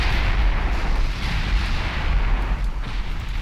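Naval gunfire in the warship battle game Ultimate Admiral Dreadnoughts, a loud, continuous rumbling barrage of heavy booms blending into one dense roar with no talking.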